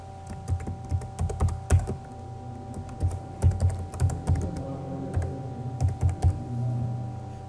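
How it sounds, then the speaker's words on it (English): Someone types on a computer keyboard, an uneven run of soft clicking keystrokes in small clusters with brief gaps, close by and with no voices. "Type your username or email ID."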